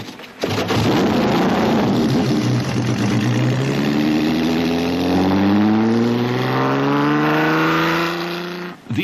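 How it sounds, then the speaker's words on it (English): A Ferrari V6 grand prix car engine revs up loudly and climbs steadily in pitch, a close, sustained roar that drops away at the end. "The engine is a V6. Glorious."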